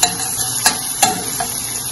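Soaked tamarind pulp cooks in oil for gongura pickle, a low sizzle under a few distinct stirring knocks of a spoon against the pan, close and brief.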